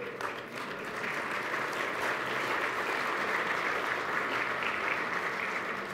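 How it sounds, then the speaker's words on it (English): Sustained applause from an audience at the Mopar press conference at the SEMA 2014 auto show, dense and steady for the full stretch with a faint murmur underneath. "I take the applause on behalf of Tim and Ralph."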